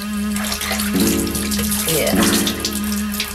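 Water pours steadily from a tap into a bath or sink during a cat wash, a loud, close, continuous splashing rush with a low hum beneath it, while a person briefly speaks over it.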